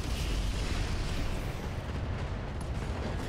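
Heavy weapons fire in the mech combat game Roguetech, a dense, continuous rumbling barrage of booms and blasts at steady loudness, with no talk over it.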